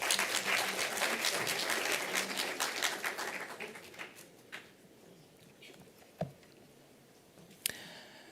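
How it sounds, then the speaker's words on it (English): Audience applause at a university research chair launch for the fourth industrial revolution, a dense burst of clapping that fades over several seconds, leaving a few isolated claps and faint room noise. "Another round of applause."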